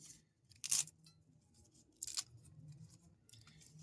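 Lemon leaves torn by hand, two quick crisp rips close by with soft rustling between and a low background hum, with no talk.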